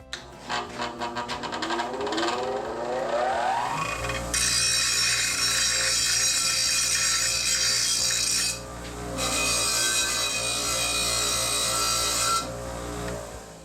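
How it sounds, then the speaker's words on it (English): A harsh, high-pitched grinding whine of an angle grinder smoothing the cut edge of a metal pipe, running in two long sustained bursts with a brief pause between, close and loud. "So I'm just going to tidy this up on the grinder"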